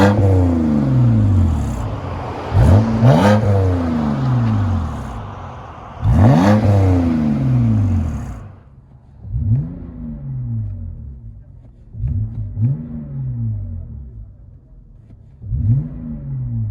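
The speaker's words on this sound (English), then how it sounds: "BMW 528i, muffler delete, and dual tip." A 2008 BMW 528i with a muffler delete and dual exhaust tips revs repeatedly, giving several loud, close bursts of deep engine roar that rise and fall, with quieter blips toward the end.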